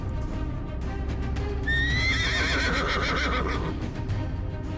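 A horse gives a loud, close whinny lasting about two seconds on a battlefield, with soft hoof clops and shuffling underneath and no speech.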